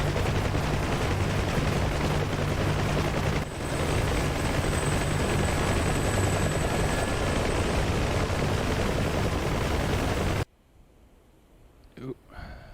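Video game helicopters lifting off together in formation, a loud steady rotor and engine roar for about ten seconds that then cuts to quieter background.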